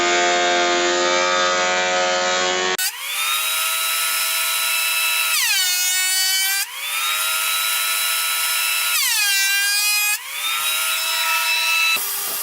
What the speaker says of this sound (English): I'm going to put these through the planer and try and make that happen without damaging any of the work